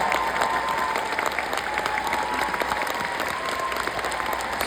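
A concert audience applauds during the band introduction at a show: dense, steady clapping and crowd noise fill the whole stretch without pause.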